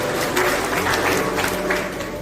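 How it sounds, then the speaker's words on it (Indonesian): Congregation applauding a newly married couple inside a church during a wedding service, steady dense clapping that stays fairly loud and even throughout, with faint voices mixed underneath. "mari kita beri tepuk tangan buat kedua pasangan ini"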